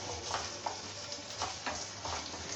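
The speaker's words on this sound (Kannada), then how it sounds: "ಓಕೆ, ಫ್ರೈ ಮಾಡ್ಕೊಳ್ಳೋಣ" Ingredients for palak paneer fry in a pan over a medium flame, a quiet continuous sizzle broken by soft stirring scrapes and taps.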